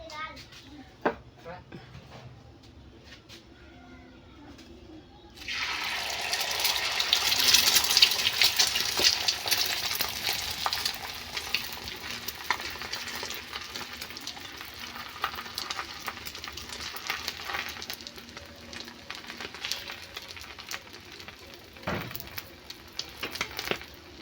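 Loud, continuous sizzle of food frying on a small hot tawa griddle starts after a quiet opening, with occasional scraping and faint talk.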